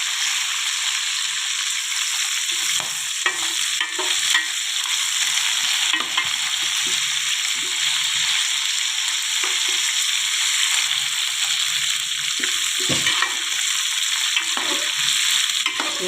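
Chicken joints fry in masala in a pan, giving a steady, loud, close sizzle throughout with occasional stirring scrapes and clinks.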